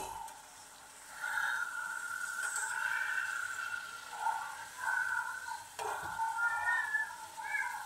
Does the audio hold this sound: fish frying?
yes